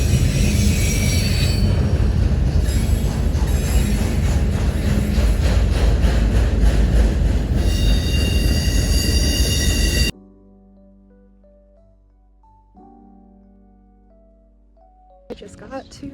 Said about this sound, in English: I got stuck behind a train that took like 10 minutes